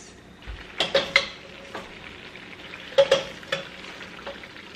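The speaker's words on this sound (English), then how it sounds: "we're gonna cook the raviolis in the brown butter sauce for about 2 minutes" Ravioli cook in brown butter sage sauce in a pan, a soft sizzle under clustered spoon scrapes and metallic clinks against the pan, close and without talk.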